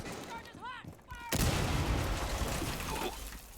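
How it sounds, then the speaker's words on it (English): Rainbow Six Siege explosions and breaching charges go off in a competitive college league match, a heavy blast arriving partway through and leaving a dense, rumbling wash of noise, with game sound effects just before it. "They can hear all the explosions going around them."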